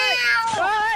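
A cat meows close by in a single drawn-out, rising and falling call lasting about a second, loud and alone.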